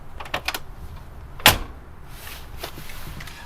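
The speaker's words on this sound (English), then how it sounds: "You literally slam it shut." A Mercedes G 63 AMG door slams shut with a single sharp, loud impact and no soft-close, followed by a brief resonant decay and quieter background.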